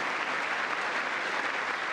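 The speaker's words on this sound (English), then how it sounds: "Members of Congress stood in applause." Members of Congress give a standing ovation in the chamber during a presidential speech, a dense, steady wash of clapping from a large room with no voices over it.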